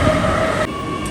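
A train runs through Germany, a loud, close rail rumble and rattle that drops slightly partway through the brief moment.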